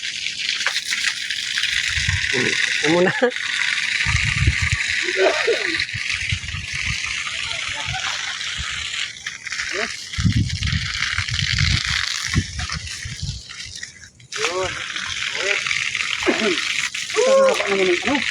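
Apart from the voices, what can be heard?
water gushing from a pipe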